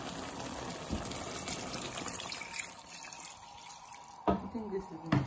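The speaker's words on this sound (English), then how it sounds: "So I'll just go ahead and add a little bit of water." Water pours into a cooking pot while Ofada stew is being made, a gushing splashy stream that stays steady and moderately quiet in a kitchen, with a few clattering knocks near the end.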